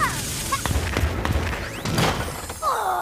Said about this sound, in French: On va tirer sur la bombe